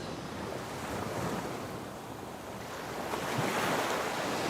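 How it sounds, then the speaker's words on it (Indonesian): Ocean surf rolling onto a beach, a steady broadband wash of breaking waves with wind buffeting the microphone, swelling louder toward the end; no voices. "Putri, Papa lagi di tepi pantai sekarang."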